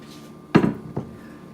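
A cast iron pan is set down with a heavy metallic clank, followed about half a second later by a second lighter knock, both close and clear against a quiet room.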